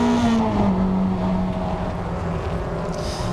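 Toyota MR2 race cars at Croft circuit sweep past with a loud engine drone whose pitch falls as they go by, the roar steady and fairly close throughout.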